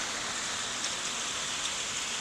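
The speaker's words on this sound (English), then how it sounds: "It is hailing." Heavy rain and hail pour down steadily during a thunderstorm in South Carolina, a dense, continuous hiss with faint scattered taps standing out, loud and close throughout.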